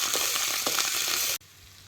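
Coconut roasting in oil in a pan on a wood-fired stove, a loud close sizzle with a few stirring scrapes that cuts off abruptly, leaving faint background.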